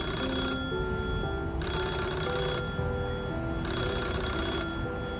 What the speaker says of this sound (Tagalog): narinig ko ang phone sa front desk